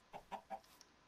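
A Minecraft chicken gives three quick, soft clucks in a row, faint and alone, trailing off into quieter chirps.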